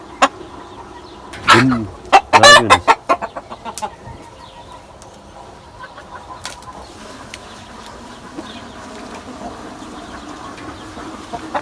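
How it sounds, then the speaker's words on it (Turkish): Chickens cluck and squawk in a short flurry with some wing flapping, then settle into quieter occasional clucks. "Ve yine aralarına bir tavuk daha kattım."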